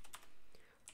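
Fingers type code on a computer keyboard, with quick soft key clicks in short bursts at the start and end, fairly faint and close, with no talking.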